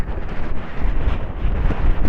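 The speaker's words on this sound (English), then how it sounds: "Nicely stood in that wind with those leaves rustling about." Very strong wind roars continuously outdoors where a horse is being handled, buffeting the microphone with a loud, low rumble, and leaves rustle somewhere beneath the gusts.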